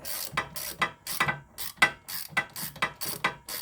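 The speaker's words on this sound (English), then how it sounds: "just proceed to take these 13 millimeter bolts out with a ratchet" A hand ratchet working 13 mm bolts off the rear brake rotor of a 2018 Ford EcoSport, giving a series of quick, close clicking bursts in a regular back-and-forth rhythm.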